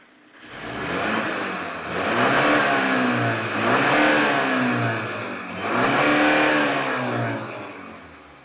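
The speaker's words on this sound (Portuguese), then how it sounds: "Vamos então provocar uma aceleração e ver qual é que é a reação deste sensor." BMW 330e G20/G21 engine with a powertrain fault revving under acceleration, three rising and falling surges of a loud mid-pitched engine tone, close and steady with no voices.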